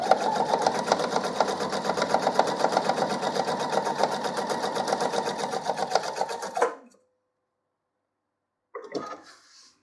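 A sewing machine stitching a patchwork coaster, a fast steady mechanical whirr running close and loud for several seconds, then stopping dead, followed after a silence by a short burst of reverse stitching.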